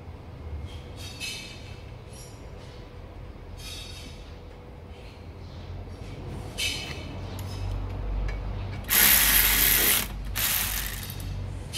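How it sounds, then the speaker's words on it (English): A ratchet tightens the brake caliper securing bolt on an Alfa Romeo 156 during a front pad and disc change, giving repeated close clicking strokes, with a louder burst of mechanical noise near the end. "Now just reattach your securing bolt."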